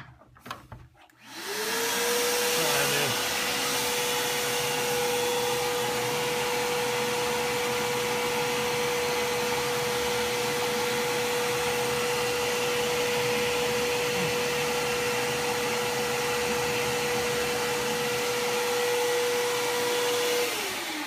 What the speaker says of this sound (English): You can come back with a vacuum.